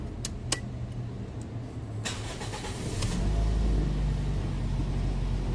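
A Toyota Vios with an engine misfire is restarted: a few sharp key and ignition clicks come first, then the engine catches and settles into a deeper, louder idle rumble close by.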